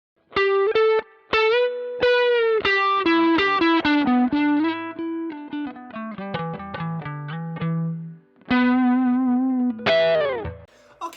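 An electric guitar plays bluesy lead licks through a Mesa Boogie Mark V:25 amp on its blues lead setting, with moderate distortion, sustained bends and phrases separated by short pauses, loud and clear with no talking.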